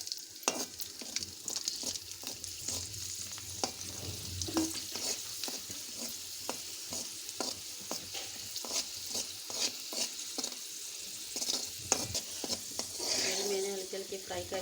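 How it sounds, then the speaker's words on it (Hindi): Black raisins frying lightly in a pan for Kabuli Afghani pulao, giving a steady soft sizzle with frequent small scraping stir clicks throughout, close and continuous. "मैंने हल्के हल्के फ्राई कर ली।"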